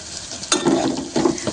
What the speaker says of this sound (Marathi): कोथिंबीर कढीपत्ता मिरची छान परतवून झालेली आहे